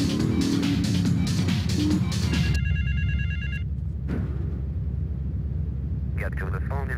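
A telephone rings in Grand Theft Auto III, a bright repeated trill in short bursts up front, then again after a pause, over a steady low hum of game traffic.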